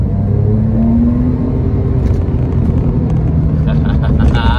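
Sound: Porsche 911 997.2 accelerating

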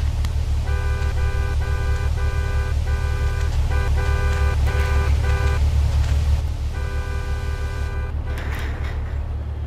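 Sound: car horn honking in the video game GTA 3

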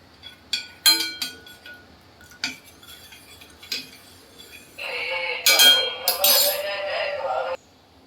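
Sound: spoon stirring ginger tea in pan

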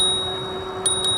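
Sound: bell on an OKAI EB50 e-bike

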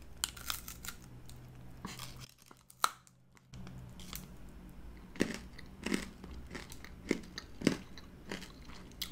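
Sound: biting and crunching a hard Polish snack

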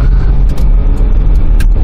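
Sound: 2005 Kia Sorento engine accelerating while driving

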